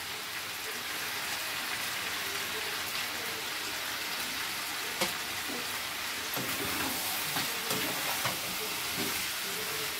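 Biryani masala and spices sizzling in hot oil in a pot as chicken biryani cooks, a constant crackling hiss with occasional scrapes and clinks from stirring, close and continuous.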